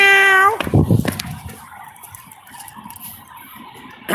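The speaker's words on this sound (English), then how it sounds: "Look at this kitty cat." A cat gives one clear, drawn-out meow up close, followed by quieter rustling background noise.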